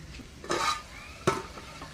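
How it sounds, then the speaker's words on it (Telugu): Chicken curry simmers in a clay pot over a wood fire. Two short scraping stirs of a utensil against the pot stand out close up over a low background hiss. "ఇగో కూర అయితే మంచిగా అయితే మగ్గుతుంది"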